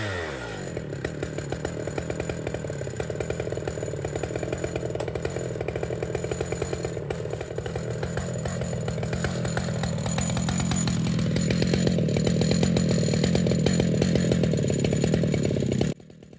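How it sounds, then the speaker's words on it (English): A chainsaw on an Alaskan mill cuts lengthwise through a log, a loud, steady close engine whine that deepens and strains under load as the cut goes on, then drops sharply at the end. "So from the Alaskan mill to when it comes off the ladder"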